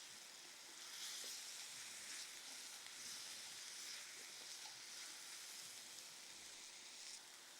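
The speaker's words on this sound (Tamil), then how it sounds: "தக்காளியும் நல்லா வதங்கணும்." Tomatoes and ginger garlic paste sauté in a pan for a soya chunks gravy, giving a steady, soft sizzling hiss with faint stirring scrapes throughout, close but fairly quiet, with no talking.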